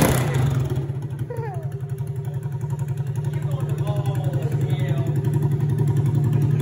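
Honda Grom motorcycle engine running close by with a rapid, pulsing low thrum that swells gradually into revving, with people talking and exclaiming over it.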